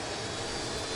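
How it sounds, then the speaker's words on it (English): An aircraft engine roars at takeoff, a dense, steady rushing drone that is loud and continuous throughout, with no other sounds standing out. "The engine of the aircraft started to roar."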